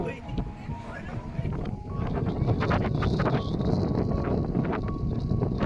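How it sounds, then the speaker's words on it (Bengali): Strong wind buffets the microphone in a continuous low roar on a sunny hillside at Hang Mua, Ninh Binh, Vietnam, gusting louder partway through, with faint voices in the background. "প্রচণ্ড হাওয়া হচ্ছে শব্দ করে"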